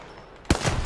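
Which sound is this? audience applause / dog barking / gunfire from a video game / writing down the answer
gunfire from a video game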